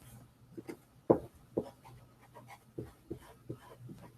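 Soft, breathy panting from a black puppy, short irregular huffs close by with a few sharper sniffs or snorts, no talking over it.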